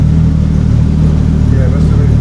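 A turbocharged, methanol-injected R18 engine in a 2006–2011 Honda Civic idles steadily up close, with a continuous low, even rumble that neither rises nor falls.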